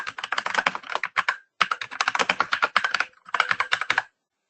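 Rapid keystrokes on a computer keyboard come in three dense bursts with brief pauses between them, crisp and close, with no talking.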